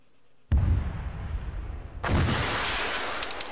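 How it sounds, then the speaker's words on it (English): Gunfire and explosions in the military shooter game Arma 3: a heavy boom strikes, rumbles and decays, then a second loud blast follows with a long crackling roll. "Whoa, we're still getting shot at."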